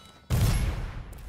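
A sharp, loud gunshot in the video game Dishonored cracks in suddenly after a moment of quiet, then its boom fades over about a second.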